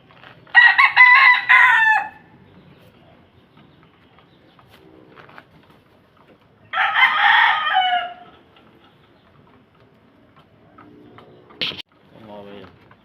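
Backyard cockerels crow twice, loud and close, about five seconds apart. Quiet clucks and faint bird sounds fill the pauses, and a brief sharp call comes near the end.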